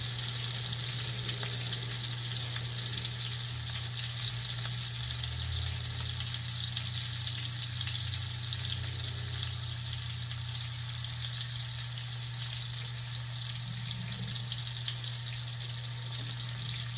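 Lamb chops sear in a hot pan, giving a steady, even sizzle with a low hum underneath that holds throughout, with no voices.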